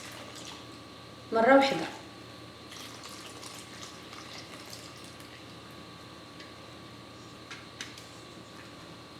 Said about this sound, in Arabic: كنضيف الماء دافي، الماء دافي كنضيفو